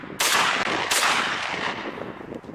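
Two loud, close shotgun blasts ring out while trap shooting outdoors, each a sharp crack followed by a long rolling decay, about a second apart.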